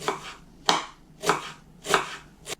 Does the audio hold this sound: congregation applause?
no